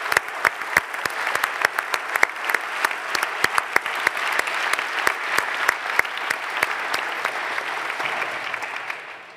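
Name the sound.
audience applause at a conference closing session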